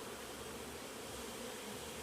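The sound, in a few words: honey bees buzzing around an open hive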